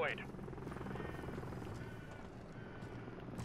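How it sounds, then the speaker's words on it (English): A helicopter in the Modern Warfare III video game produces a steady thudding rotor chop that continues throughout, with someone talking over the noise. "Friendly Overwatch helo in the area."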